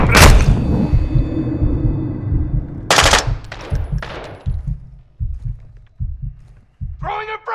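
Automatic and single gunfire from the Call of Duty: Modern Warfare prison break mission, with loud rattling bursts and sharp shots, followed by spaced single reports, while game voices shout over the action.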